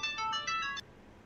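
A mobile phone ringtone plays a quick pulsing electronic melody of several short repeated notes, moderately loud, then cuts off abruptly and leaves faint room noise, with no talking.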